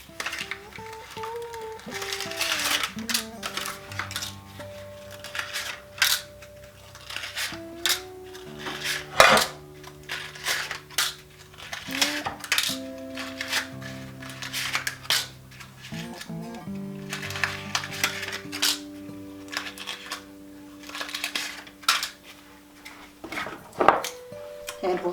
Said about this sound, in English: I'm going to line my muffin pans here with some papers.